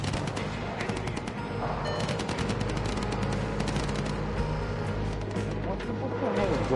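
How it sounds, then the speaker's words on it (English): Rapid bursts of video game gunfire crackle continuously in Dying Light: The Beast, loud and close, with engine rumble beneath and a voice talking over it. "I heard the gunfire, but I didn't see it."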